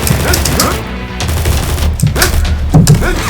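Gunfire in the Combat Masters video game rattles in dense, loud bursts of rapid automatic shots, nearly continuous through the clip with only brief dips, and no voices heard.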